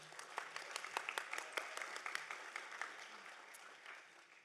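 Quiet, sparse applause from a summit audience at a university sustainability event, individual claps distinct and scattered rather than a dense roar, fading toward the end, heard faintly and at some distance.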